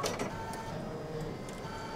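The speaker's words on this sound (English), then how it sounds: "And I'm gonna press the button to thread the needle." An embroidery machine fitted with an Organ 7511 EBBR needle runs its automatic needle threader, giving a short whirring mechanical buzz with a few small clicks, close and quiet, with no voices.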